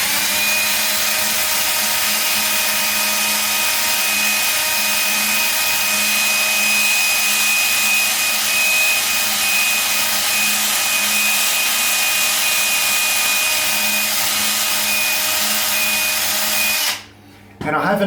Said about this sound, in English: We're going to use our little drill attachment here.